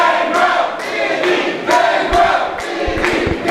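A wrestling crowd at an independent event cheers and chants for Gangrel or Vinny, rhythmic chant bursts rising and falling from a large audience, with some stomping thuds underneath.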